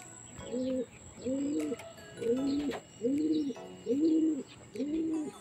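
Pigeons cooing during a racing pigeon training flight arrival, six evenly spaced low coos close by with faint chirps in the background.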